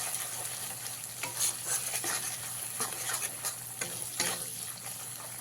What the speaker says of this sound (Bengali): এক চামচ হলুদের গুঁড়ো এক চামচ ধনে গুঁড়ো দিয়ে খুব ভালো করে কষিয়ে নিতে হবে